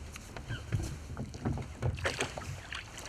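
Oars stroke and splash as a rowboat is rowed for float trolling for pike, with uneven watery dips and knocks recurring every half second or so under steady wind noise on the microphone.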